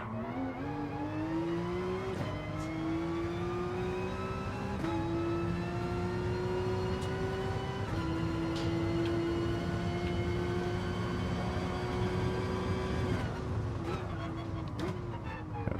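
An old Porsche race car in GT Sport at Laguna Seca roars steadily at high revs, its engine pitch climbing and shifting through gears with brief drops, loud and continuous throughout the lap.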